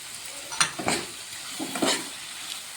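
Spiced potatoes frying and being stirred in a pan with ground cumin, coriander and turmeric, giving a soft sizzle with a few scraping stirs close by, and no talk.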